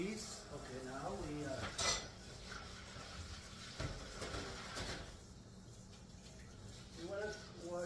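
Dishes are rinsed and washed at a kitchen sink to clear out flavored butter, with clinks of pots, cutlery and clattering utensils against running water, while a person talks intermittently over the close, moderately quiet clatter.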